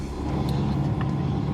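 A Toyota Fortuner pushes through sand dunes with a loud, steady engine drone close by, unbroken for the whole stretch and with no voices.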